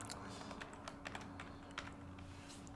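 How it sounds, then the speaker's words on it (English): Typing on a computer keyboard while working in Microsoft Excel, a quiet stream of irregular key clicks at a steady pace over a faint hum, with no talking. "So let's start typing."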